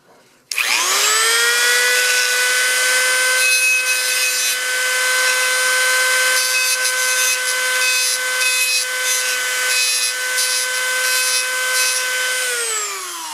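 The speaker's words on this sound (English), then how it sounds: "I know there are people that see the Dremel and they grimace or freak out" A Dremel rotary tool grinds a titanium part for a 10mm hi-capacity 1911 pistol, a loud, steady high-pitched whine that spins up at the start and holds for about twelve seconds before winding down, with no talking.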